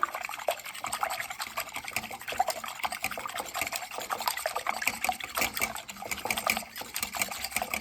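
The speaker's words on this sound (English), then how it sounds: "you're gonna take a sourdough whisker and you're gonna mix those two things together" A sourdough whisk stirs water and sourdough starter together in a bowl, producing a steady run of close, soft liquid sloshing and light scraping clicks throughout.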